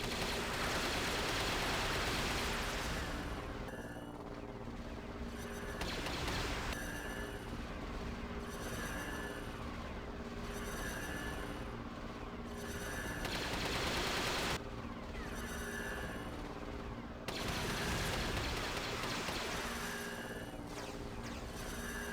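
Rapid blaster fire in LEGO Star Wars: The Video Game, shooting at blue targets during a gunship level, loud and continuous over dense game music and effects, with short bursts repeating across the stretch.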